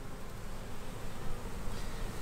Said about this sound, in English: I'm glad that I can at least catch the swarm